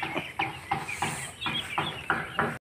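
Ducks call in a quick series of short, rhythmic quacks close by, about eight bursts in under three seconds with no talk over them.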